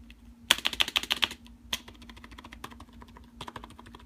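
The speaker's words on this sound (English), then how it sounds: "this is not a mechanical gaming keyboard, but this is a membrane keyboard" Someone types on a CM Storm Devastator membrane gaming keyboard: a rapid run of close keystrokes, then sparser scattered presses over a low steady hum, with no talking.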